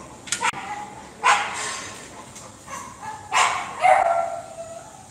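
Several dogs bark in separate sharp bursts spread across the moment, nearby and fairly loud, with no talking.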